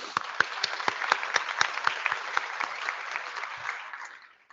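Applause from a conference audience at a plenary session, many hands clapping in a room with some distinct individual claps standing out, steady for several seconds before fading away.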